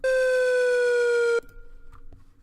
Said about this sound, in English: But if you did a pitch shift this way, it'd sound like this.